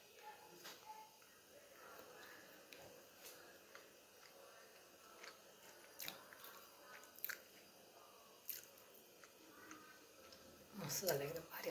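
Close, soft chewing of fried fish eaten with bhakri flatbread, quiet irregular bites and squishy mouth sounds over a low background, with a brief louder clatter near the end.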